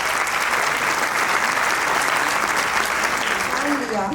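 Loud, continuous applause from a school audience at a mentorship program event for government school students, a dense steady wash of many hands clapping throughout, with a voice faintly under it near the end.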